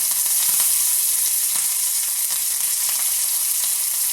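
Mustard seeds, cumin and curry leaves spluttering in hot oil for a tempering: a loud, dense, continuous sizzle close up, peppered with rapid crackles and small pops.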